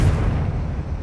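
A Confringo blasting spell in Hogwarts Legacy lands as a heavy, booming explosion, loud and close, with a deep rumble that fades quickly.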